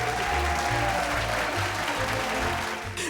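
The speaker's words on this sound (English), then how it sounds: "and there was a huge cheer" A huge cheer and applause from a room of people celebrating a spacecraft entering orbit, a dense steady roar of clapping and voices sustained throughout.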